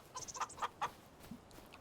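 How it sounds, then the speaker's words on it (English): Chickens clucking in Farming Simulator 25, a quiet burst of several quick clucks in a rhythmic run, then a couple of softer scattered calls trailing off. "We've got 31 chickens."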